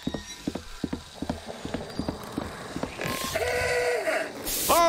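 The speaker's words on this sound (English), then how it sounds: "his footsteps don't echo as much when he's in a tight space" Footsteps of a character in Reveil, a circus horror video game, thud in a steady walking rhythm, then give way to a creaking mechanical rise and a loud burst at the end.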